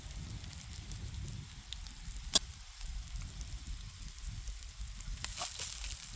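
Steak cooking outdoors at a truck-bed campsite, giving off a soft, steady crackling sizzle with scattered pops and one sharp snap, fairly quiet and close, without talk.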